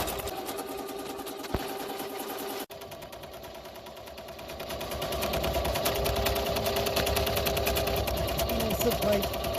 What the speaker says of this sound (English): First time I've done label, an embroidered label on this machine.